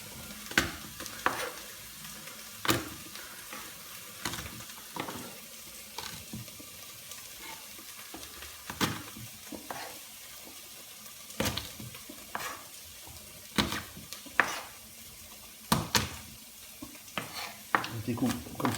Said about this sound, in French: Pendant que les oignons sont en train de cuire